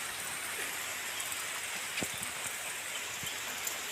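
Steady rain patters down, soft hiss with scattered drops striking nearby surfaces, continuous and moderately quiet, no voices.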